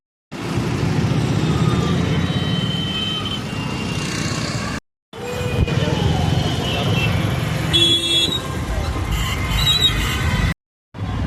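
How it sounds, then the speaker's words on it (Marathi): Busy street traffic with car engines and occasional horn toots passing steadily, a continuous loud roar broken by two short gaps, with faint voices now and then. "इथं ट्रॅफिक एवढी का गाडी लावायला जागा नाही"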